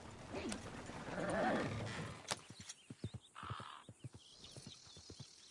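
In a video game, horse hooves clip-clop in a quick uneven rhythm after a burst of noisy commotion, with a brief whinny-like cry in the middle.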